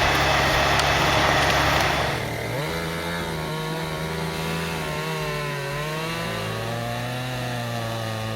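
A Husqvarna chainsaw with a 20-inch bar cuts into an oak stump, a loud, continuous high-pitched engine whine close by that bogs down partway through and then drones on under load.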